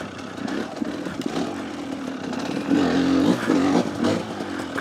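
An enduro dirt bike on a muddy Cumbrian course passes close, its engine buzzing and rising in pitch as it revs by, then fading slightly.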